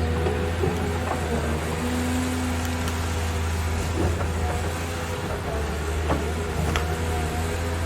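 A CAT 320 Next Gen excavator engine drones loudly and steadily at full throttle in power mode, a constant low rumble with occasional clanks and knocks over it, while digging rubber tree stumps.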